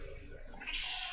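A cat meows once, a short rising cry close by in a quiet indoor room.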